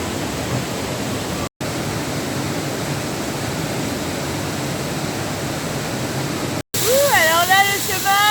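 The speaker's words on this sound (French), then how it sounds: "regardez comme c'est beau. Cette cascade." A waterfall on Madeira pours in a steady, dense rush of water, close and constant, with two brief cuts and a voice speaking over it at the end.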